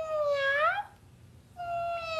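A voice imitates a cat, giving two drawn-out meows separated by a short pause, fairly close and clear.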